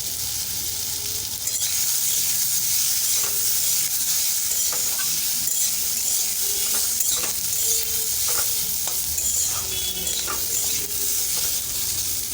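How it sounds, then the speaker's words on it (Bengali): Potato pieces fry in a pan with turmeric and chilli powder, giving a constant loud sizzling hiss broken by irregular scraping knocks of a spoon stirring them. "এক চামচ হলুদ দেব, 1 চামচ লঙ্কা দেব, দিয়ে ভালো করে আলুটাকে কষে নেব।"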